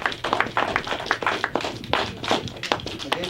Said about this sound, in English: Give them a round of applause for the end of their conclusion